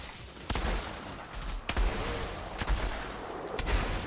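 Gunfire in a video game shooter, a few sharp, separated shots landing roughly once a second over a rumbling battle backdrop.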